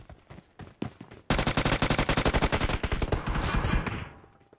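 Automatic gunfire in an online shooter video game. A few separate shots come first, then a long sustained rapid burst of close, loud, rhythmic fire that tapers off near the end, with no voices.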